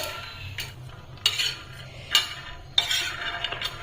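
Peanuts being roasted in a pan at home, a few sharp scrapes and clinks of a spoon against the metal standing out over a low steady background, no talking.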